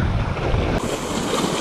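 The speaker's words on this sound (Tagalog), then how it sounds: "Sobrang lakas ng alon" Strong sea waves surge and wash steadily around a small fishing boat off Talim Island, with gusty wind buffeting the microphone in a loud, continuous roar.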